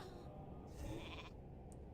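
A sheep bleat from a mage's polymorph spell in Turtle WoW, a single short, faint bleat in the middle of a quiet game soundscape.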